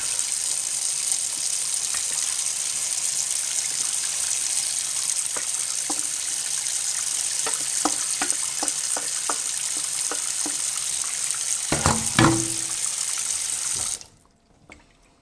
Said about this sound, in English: as soon as I dump this warm macaroni into this cold water, the water is going to heat up fast